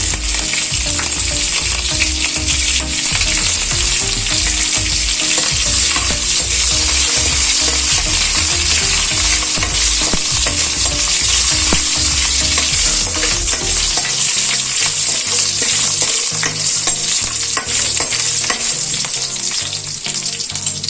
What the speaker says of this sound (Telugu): వీటిని మనం బాగా వేయించుకోవాలి. అలాగే వీటిలోకి కరివేపాకు కూడా యాడ్ చేస్తున్నాను.